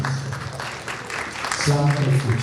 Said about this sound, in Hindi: तो उनके लिए तालियां बजाइए प्लीज़।